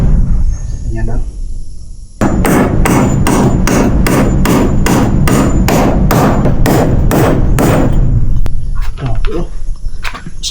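Rapid, steady run of about fifteen loud hammer blows driving nails into wooden brackets for a farmhouse floor frame, close by, with a few lighter taps and movement trailing off at the end.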